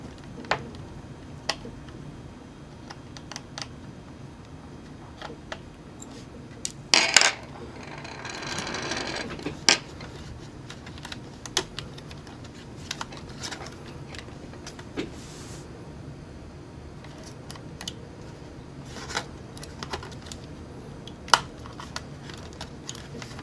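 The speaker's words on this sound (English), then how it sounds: "taking out the wireless card now" A wireless card being pried out of a Sony Vaio laptop: scattered small plastic clicks and ticks, with a short scraping rasp partway through. The sounds are close and quiet, with no talking.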